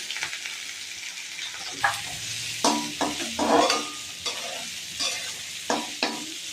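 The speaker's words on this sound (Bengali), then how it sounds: "এবার ডালটা দিয়ে একটু কষিয়ে নেব, ভাজা ভাজা করবো।" Soaked dal (lentils) is stir-fried in a pan over a constant hiss of sizzling oil. A spoon scrapes and knocks against the pan in irregular strokes, loud and close, with no talking.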